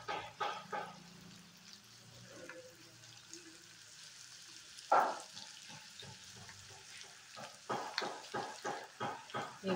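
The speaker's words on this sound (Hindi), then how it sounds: "बस इसको कम आंच पर हमको अच्छे से फ्राई करना है।" Spices with kasuri methi fry in a pan over a low flame, a soft, close sizzle under quiet kitchen noise, with stirring scrapes and a rhythmic series of clinks toward the end.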